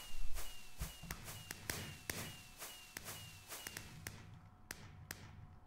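Fireworks rockets launched by a ComputerCraft turtle in Minecraft: a quick series of sharp pops and thuds at irregular intervals, each with a short crackling burst, with a faint whistle sweeping through the first few seconds.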